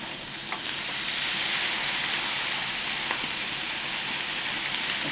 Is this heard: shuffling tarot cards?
no